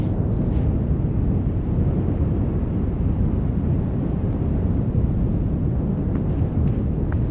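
Wind over an almost frozen lake in Algonquin during a winter hike buffets the microphone in a continuous low roar, steady and close, with no voices.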